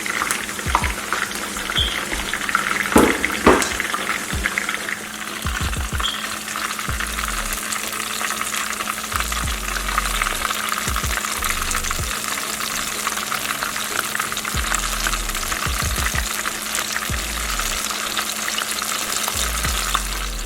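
Red snapper frying in oil on a stove turned to low, a steady close sizzle with crackling pops and occasional stirring clatter throughout, no talking.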